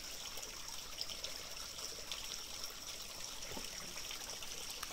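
A stream flows along a riverbed beside a trail in Central Europe, giving a steady, soft trickling and gurgling of water that runs evenly throughout at low volume.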